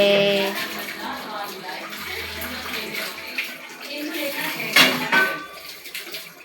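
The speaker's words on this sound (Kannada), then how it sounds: "ನನ್ನ ಮಗಳಿಗೆ ಇವತ್ತು ಪಾತ್ರೆ ವಾಷಿಂಗ್ ಟಾಸ್ಕ್ ಕೊಟ್ಟಿದ್ದೀನಿ." A girl washes dishes under running water at home, a close rushing stream with occasional clinks of utensils, while people talk over it.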